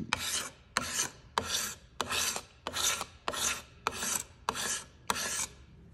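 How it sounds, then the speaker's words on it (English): Card scraper drawn along a wooden axe handle in nine even, rhythmic strokes, each a close, dry rasping scrape followed by a short pause. "we're just going to scrape"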